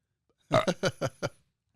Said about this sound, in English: It wasn't a good burp.